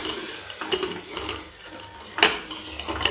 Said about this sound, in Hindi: ये लगा देते हैं खिचड़ी में तड़का